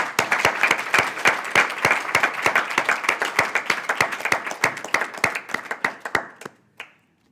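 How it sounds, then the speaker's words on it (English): Graduates and guests at a cardiology fellowship graduation ceremony clap in a round of applause, loud and close with distinct individual claps in a lively rhythm, thinning out and stopping abruptly near the end. "So congratulations, everyone. Give a round of applause to yourself"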